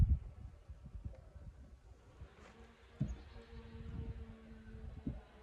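Honeybees buzz around an open hive during a frame inspection, a low droning hum with individual bees passing close by, fairly faint and without talk.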